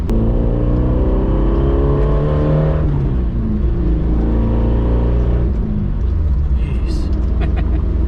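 Loud engine drone of a Suzuki Samurai 4x4 on the move, with the pitch rising and falling as gears shift, and a faint rattle.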